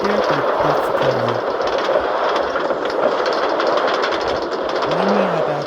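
A Minecraft metro train on Line 1 runs steadily, with a continuous loud rumble and rail noise, brief tonal hums and a short rising whoosh near the end, and no talking.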